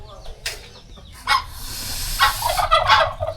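A goose calling near its eggs, several honking calls in short bursts after a few sharp clicks, fairly close against quiet background noise.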